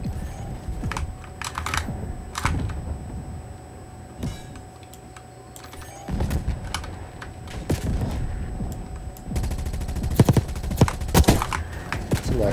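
Call of Duty Black Ops 6 multiplayer gameplay with sharp, rapid bursts of gunfire and clattering impacts, the firing growing denser and louder toward the end over a steady background hum.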